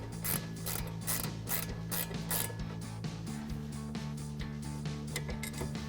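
A ratchet clicking rapidly and steadily up close as a brake caliper bolt on a 1999-2004 Mustang is broken loose and backed out, with a low mechanical hum beneath.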